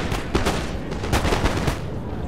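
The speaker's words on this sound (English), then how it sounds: "Caden's opponent has brought artillery, and he's really been battering him up" Artillery and gunfire in a Napoleon Total War battle, a dense spread of booming cannon shots and crackling volleys rolling continuously, loud and overlapping.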